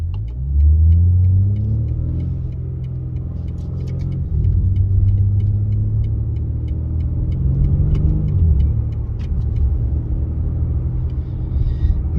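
A 2022 BMW M3 Competition M xDrive in Skyscraper Grey Metallic launches hard, its engine roaring close and loud through rising gear pulls, with a dip and fresh climb as each shift lands.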